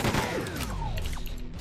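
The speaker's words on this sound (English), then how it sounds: "I'm gonna chain gun this guy to death." Rapid chain gun fire at an enemy in the video game Quake 2, a dense continuous burst of shots close up with mechanical whirring through the whole stretch.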